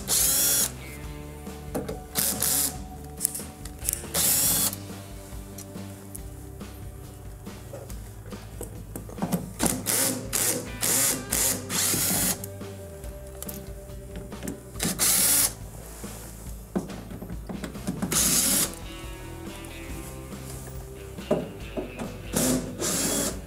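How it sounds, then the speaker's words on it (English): A 1/4-inch nut driver, apparently powered, removes screws from the bottom back panel of a leaking Kenmore refrigerator, with repeated bursts of whirring and ratcheting and brief pauses between screws, close and fairly loud. "It looks like there are 7 1/4-inch screws that we're going to remove."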